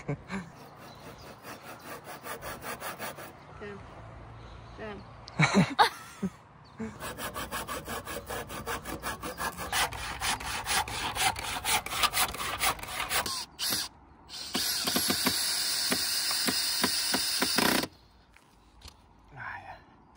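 A hand saw rasps back and forth through a wooden beam in quick, steady strokes, pausing a few times, with some quiet talk in the background.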